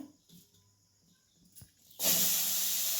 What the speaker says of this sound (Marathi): कढई गरम झाल्या आता ही कोबी धुवून घेतलेला आपण त्यात ओतूया